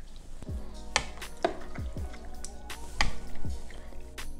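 Milk being stirred into green grass jelly for Che Thai, giving repeated soft clinks and wet squishes from a spoon against the container in an uneven rhythm, close up and fairly quiet.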